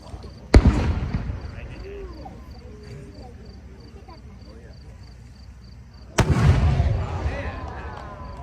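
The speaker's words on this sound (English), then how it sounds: "It's a silver rising comet to transition burst Red planet with silver ring, transitioning to red sun, ending as exploding star." An 8-inch Cosmos firework shell bursts with two sharp, loud booms several seconds apart. Each boom is followed by crackling, rumbling decay, with faint crowd sounds in the gap between them.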